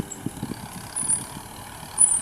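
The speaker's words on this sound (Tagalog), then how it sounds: "Ayan guys, o yung traktora." A tractor engine runs in a farm field being plowed for vegetable planting, a low, quiet rumble with faint rhythmic pulsing and no voices, over about two seconds.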